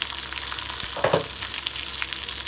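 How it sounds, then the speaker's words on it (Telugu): Cumin seeds, curry leaves and green chillies frying in hot oil, a loud continuous sizzle with stirring scrapes, close and without speech. "బాగా ఫ్రై అవ్వాలండి."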